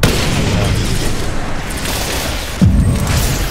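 A grenade detonates in the online shooter Ghost Recon Phantoms, a deep, loud boom that hits near the end over a steady rumble of game noise and gunfire.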